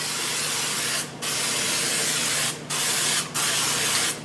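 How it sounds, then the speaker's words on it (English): Cooking spray hisses onto a bread pan in three steady bursts, close and loud, with short gaps between them. "I'm going to go ahead and just lightly spray my bread pan here"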